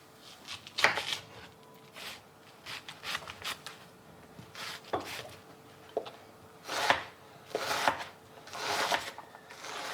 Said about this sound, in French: Je vais commencer par couper les oignons.